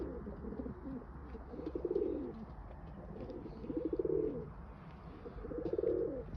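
Pigeons coo in a coop, three low rolling bursts of cooing rising at roughly two-second intervals over a quiet, steady background.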